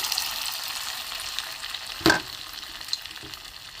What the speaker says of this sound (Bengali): একদম গ্যাস কমিয়ে ভাজতে হবে, লো ফ্লেমে ভাজতে হবে এখন